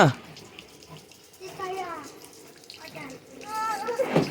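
Water runs from a tap in short splashing bursts, with a voice and other chatter over it.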